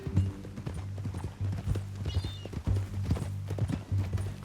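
Horse hooves clip-clop in steady rhythm in Red Dead Redemption 2's epilogue at Beecher's Hope, close and fairly loud, with a brief whinny-like sound and a low drone underneath.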